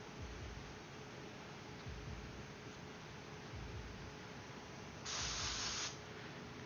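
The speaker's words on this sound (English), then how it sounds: "got a good spray." An airbrush sprays paint onto shirts with a steady soft hiss, and a brighter, louder burst of spray stands out near the end. No one speaks.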